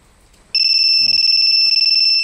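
A Yamaha Fazzio scooter's alarm starts abruptly and blares a loud, continuous two-tone electronic whine, pulsing slightly. A short murmur of speech is heard beneath it.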